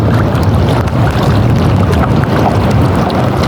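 Steady, loud wind roaring over open sea while fishing, with a constant low rumble like a boat's engine or hull noise underneath, no voices.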